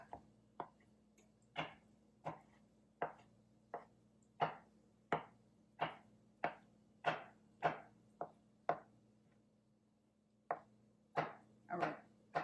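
A knife chops onions on a cutting board in a home kitchen, about twenty sharp, close knocks in an uneven rhythm with a short pause before a final cluster.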